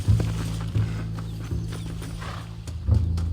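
Horse hooves clip-clop steadily in the Western video game Red Dead Redemption, a rhythmic low thudding with small mechanical creaks, heard close and alone without talk.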